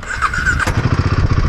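A Royal Enfield Himalayan 450 motorcycle engine on the road, briefly revving and then settling into a steady, close, rhythmic low thumping.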